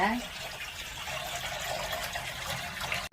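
Water running steadily into a freshly cleaned fish tank, a continuous broad rushing and splashing pour that holds at an even level for about three seconds.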